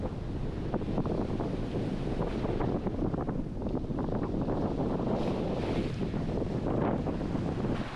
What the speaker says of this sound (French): là on a 30 nœuds de vent, hein, entre 28 et 30 nœuds